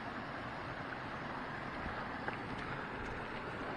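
Small waterfall in a forest stream by a beaver dam near a backpacking trail in West Virginia, giving a steady, even broadband rush of falling water close by, with no talk.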